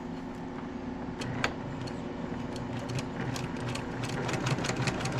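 Sewing machine run by a foot pedal stitching a quarter-inch quilt seam, a steady mechanical hum with faint ticking, moderately quiet and continuous with no talk.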